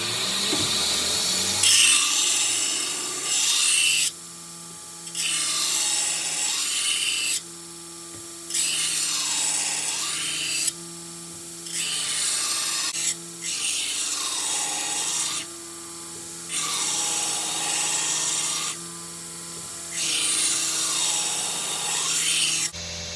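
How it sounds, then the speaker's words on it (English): A belt grinder with a 120 grit belt smooths the bevels of a low-layer Damascus Bowie knife, giving a run of rasping passes about two seconds long, each followed by a short pause, close and clear with no voices. "Here I've moved from a 40 grit belt up to a 120 grit belt to help smooth out those bevels."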